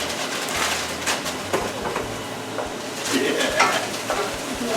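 A utensil stirs and scrapes browned bits from the bottom of a hot pan while cooking Southern-style green beans, with continuous sizzling and irregular scraping strokes, close and clear, without talk.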